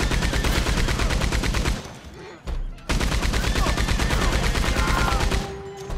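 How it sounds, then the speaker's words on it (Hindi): Rapid, sustained machine gun bursts from the game Red Dead Redemption 2, loud and dense, broken by a short lull near the two-second mark before the firing resumes and runs on. "भैया मशीन गन मिल गई, आओ जल्दी आओ।"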